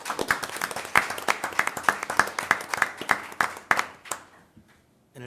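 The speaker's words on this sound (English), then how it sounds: "Another round of applause, please." A round of applause from a modest audience at a school board of education meeting, steady, distinct hand claps for about four seconds before trailing off into quiet.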